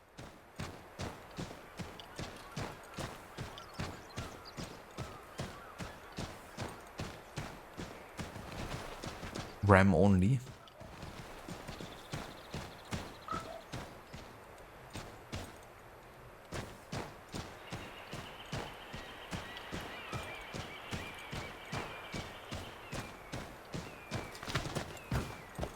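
Horse hooves clip-clop steadily at a walking pace through Assassin's Creed gameplay set in 1754 during the French and Indian War, with a brief louder burst midway and people talking over the hoofbeats throughout.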